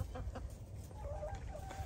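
Chickens cluck softly in short bursts at a moderate distance, over a low rumbling background.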